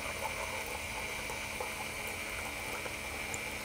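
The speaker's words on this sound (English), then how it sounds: "So that's the pump that's pushing the water out through the metal filter, the screen that's in the bottom of the chamber" Small electric pump in a Trifecta MB brewer forcing water out through the metal screen filter at the bottom of its brew chamber, a steady continuous hum with liquid rushing, close and even throughout with no talk.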